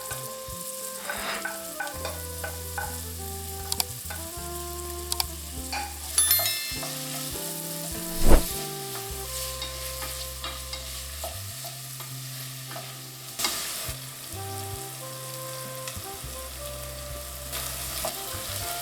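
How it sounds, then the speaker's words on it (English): Chopped vegetables sauté in a soup pot, sizzling and hissing while being stirred. A steady frying crackle runs throughout under a prominent musical backing, with a few louder knocks of utensil against pot. "Saute until they are softened."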